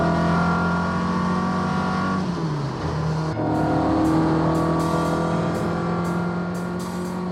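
A Mk1 Ford Escort cruises with a steady engine drone and road roar, the pitch dipping briefly midway before settling again, with faint ticking clicks in the final seconds.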